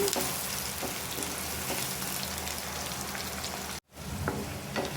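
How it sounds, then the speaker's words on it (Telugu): Green chillies and onions frying in a pan, a dense continuous sizzle like rain on a surface, with a few faint stirring taps and a brief dropout near the end. "ఇవి చక్కగా వేగిన దాకా ఇలా ఫ్రై చేసుకోవాలి"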